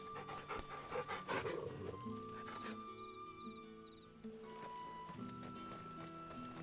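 The dog in the video game Final Fantasy XVI pants with quick, rhythmic breaths, faint beneath soft game ambience and scattered tones.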